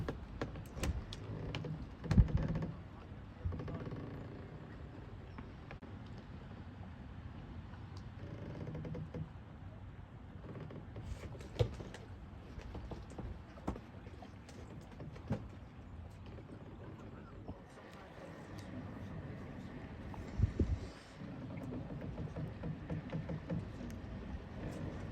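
A moored boat on the Norfolk Broads creaks and knocks faintly in the quiet, with scattered soft taps and thuds, a few sharper clicks, and low rumbling between them.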